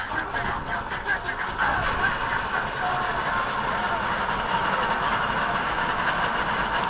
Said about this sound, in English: Motors are running smooth.